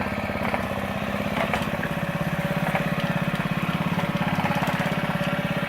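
A small gas-powered four-stroke engine taken from a weed whacker runs on a Razor scooter, a steady close buzzing putter with a fast pulsing rhythm that stays even throughout.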